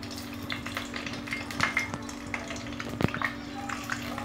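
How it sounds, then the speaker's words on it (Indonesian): Tempe frying in hot oil in a home kitchen gives a steady soft sizzle with a low hum beneath, broken by a few sharper pops and clinks of the pan. "Panaskan minyak, kemudian goreng tempenya."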